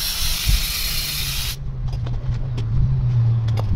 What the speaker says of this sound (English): Let's try a bit of brake cleaner on it and see where it goes.